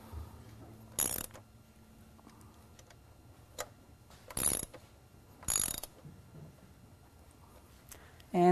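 Bolts on a motorcycle fork being tightened while Galfer brake pads are fitted, a few short ratcheting clicks in separate bursts with quiet gaps between them, close by.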